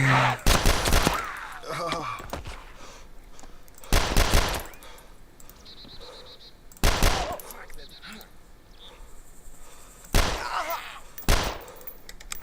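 Bursts of PDW submachine gun fire in the zombie survival video game DayZ, four loud separate volleys spaced a few seconds apart, with quieter game ambience and faint talk between them.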